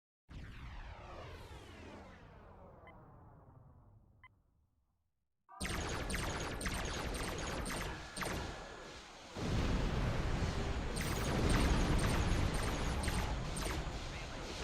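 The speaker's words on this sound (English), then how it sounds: "Well, let's see what the cannons are like." Cannons firing in a space video game. A falling, whooshing tone fades to silence, then a dense, loud run of rapid blasts and crackling bursts that grows heavier toward the end.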